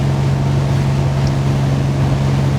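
A Fjord 41 XL motorboat with a large hardtop cruises on open water, its engines giving a steady, loud, unbroken drone mixed with wind and water rush.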